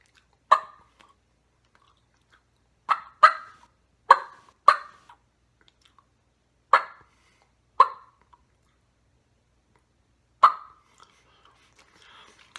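Turkey clucks made by a person on a Blue Demon mouth diaphragm call, sharp single clucks in a sparse irregular sequence of about seven, close and crisp against silence.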